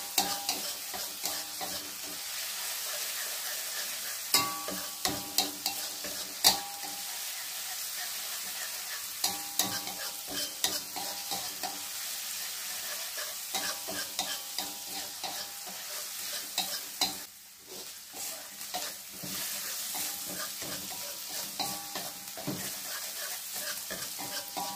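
Shredded chicken sizzling and frying in hot oil, stirred with a utensil that clatters and scrapes in frequent close knocks over a constant loud crackle.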